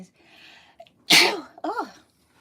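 A single loud, close sneeze with a sharp inhaled buildup and a burst, then a short voiced trailing sound, in an otherwise quiet room.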